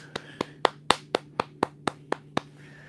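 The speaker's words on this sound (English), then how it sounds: "Everybody clap your hands." A small group at a live catfishing session on Lake Moultrie, Santee Cooper, claps in a steady rhythm of about ten sharp, evenly spaced claps, fairly close, over a low outdoor hum.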